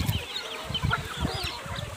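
Free-range country chickens on a farm plot cluck in low, steady, repeated pulses, fairly faint and close together, with no talking.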